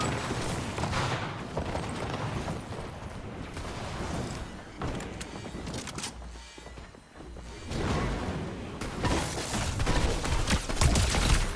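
Assault rifle fire in Fortnite, loud bursts of game gunfire with swooshes and crashing impacts running nearly continuously, dipping briefly in the middle before resuming.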